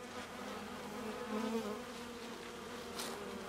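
Honeybees at a weak hive with very few bees and robber bees present hum in a steady, low drone, close by, with faint buzzing passing through.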